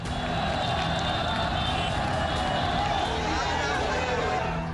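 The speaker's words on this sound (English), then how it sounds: "crowds assembling without notice" A large crowd of protesters floods the streets of Saharanpur after Friday prayers, a dense, constant roar of shouting and babble with no pauses, loud and close.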